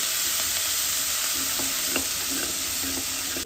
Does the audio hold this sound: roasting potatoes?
yes